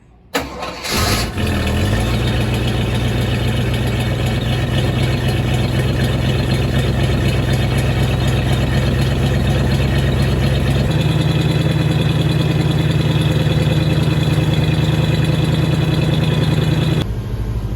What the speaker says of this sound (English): Okay, so I got her up on high idle.